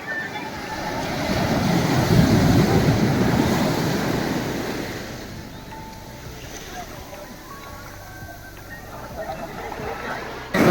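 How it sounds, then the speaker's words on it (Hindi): Ocean surf at Kovalam beach in the evening, a broad steady wash of waves rolling in close to the feet, loud at first then easing, with wind buffeting the microphone and a voice speaking over it. "ये देखो कैसी लहरें आ रही हैं एकदम पैरों को छूते हुए।"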